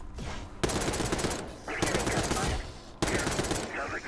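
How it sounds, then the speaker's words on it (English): Automatic gunfire in Call of Duty Black Ops 6 comes in three sharp, loud bursts with a short pause between each, and a voice is faintly audible under the shooting. "Yeah, I'm wasting my bullets."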